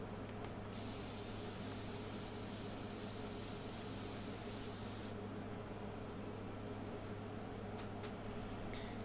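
Airbrush spraying paint onto a portrait, building up skin tones, a faint, continuous airy hiss for about four seconds over a steady low hum, then stopping, followed by a few soft clicks.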